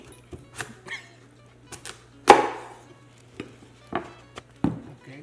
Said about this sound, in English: And now I'm going to cut the squash.